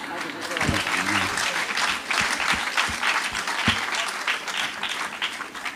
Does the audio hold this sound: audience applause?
yes